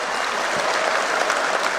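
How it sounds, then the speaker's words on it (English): At an awards ceremony for national micro, small and medium enterprises, a large audience gives the President a round of dense, steady applause, continuous and loud throughout. "Your Excellency, you do deserve another round of applause for this work you have done."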